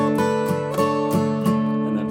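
An acoustic guitar plays a short measure from a song, its ringing notes picked in a steady rhythm with clear attacks roughly every third of a second over sustained strings, close and alone.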